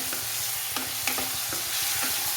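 Sliced onions sautéing in a pan for chicken curry, a continuous close sizzle with a few brief spoon scrapes and taps, no speech.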